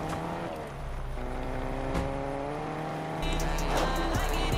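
A taxi in the video game Fortnite drives with a steady engine drone that rises in pitch as it accelerates, with a brief tire squeal, loud and continuous, and no talk over it.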